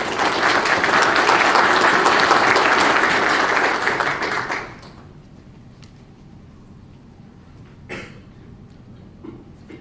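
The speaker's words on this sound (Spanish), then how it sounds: "Pero un fuerte aplauso, por favor, damas y caballeros." A conference audience at the Prospectiva Perú 2030 event gives loud, dense applause for about four and a half seconds. It then cuts off into a quiet room with a single faint clap or knock afterward.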